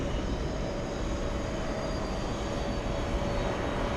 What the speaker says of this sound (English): Let's go over to Blue JetBlue, taking off.